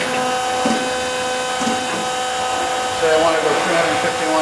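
A LeBlond Regal 15x54 servo shift engine lathe turns its spindle at about 95 RPM, giving a steady close mechanical whir and hum with tonal whine, while someone speaks briefly over it.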